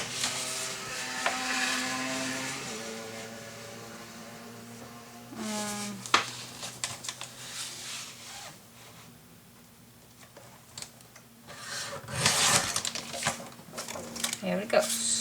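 Paper for a Graphic 45 mini album is trimmed with a cutter in a few short slicing and sliding strokes, faint and close, with someone talking in between.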